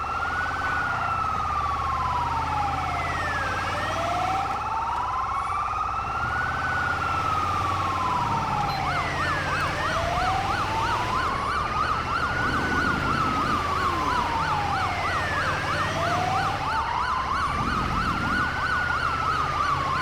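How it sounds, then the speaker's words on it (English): In GTA 5 with the LSPDFR mod, an Australian emergency vehicle's wailing siren cycles steadily, with a second faster yelping siren joining partway through, loud and continuous over a low engine rumble. "can't get the double sirens to work"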